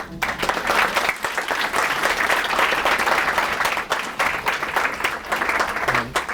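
Sustained applause from a seated audience at a lecture-concert honoring two speakers, steady dense clapping filling the room without a break for several seconds.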